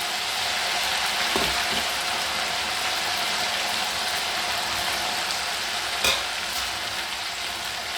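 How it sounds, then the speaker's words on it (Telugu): Chicken pieces frying in hot oil until golden brown, a steady loud sizzle with a few brief clatters of stirring, no voices. "ఇలా మొత్తం తడి లేకుండా ఫ్రై చేసుకోవాలండి, గోల్డెన్ బ్రౌన్ వచ్చే వరకు"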